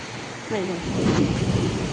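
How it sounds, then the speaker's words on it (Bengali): Rain falling steadily in a heavy downpour with a low rumbling roar and gusts, a short voice-like tone sounding over it partway through. "কি অপূর্ব বৃষ্টি পড়ছে দেখুন"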